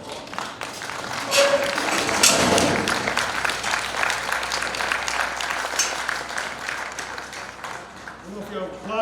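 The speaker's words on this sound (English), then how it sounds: "I don't know if y'all applaud because that went well or because it's over." Audience applause at a Texas A&M extension beef conference talk, a sustained patter of many hands clapping indoors that swells and then fades, with a speaker's voice returning at the end.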